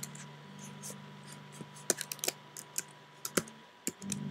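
Code is typed on a computer keyboard, with close, crisp keystrokes that come in irregular bursts and short pauses, more clustered toward the middle and end, with no voice over them.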